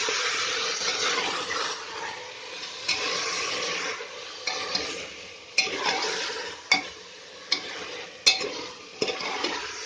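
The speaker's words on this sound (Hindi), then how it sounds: "अब इसमें मैं ये कीमा डाल देती हूँ, इसको भी भून लेंगे साथ में।" Mutton and minced meat frying in a pan for rara mutton, with a constant loud sizzle and periodic scraping clanks as a spoon stirs, the knocks growing sharper toward the end.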